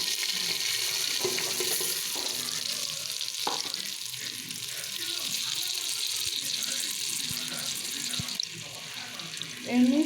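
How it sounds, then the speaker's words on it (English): Scented rice being washed under a running kitchen tap for fried ghee rice, water streaming steadily with clinks and stirring, while a pan sizzles faintly in the background and a voice speaks briefly. "rice, wash it nicely and reduce all the water"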